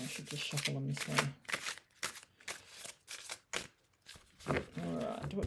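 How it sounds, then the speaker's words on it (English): Tarot cards shuffled in repeated quick riffles and slaps, crisp bursts with short pauses between, close up with a voice occasionally under it. "maybe I should just shuffle them this way"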